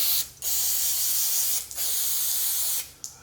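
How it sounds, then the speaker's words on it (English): An aerosol degreaser sprays grease off the suspension of a VW van in three long, loud hissing bursts separated by short pauses. "I'm gonna spray some of this grease off"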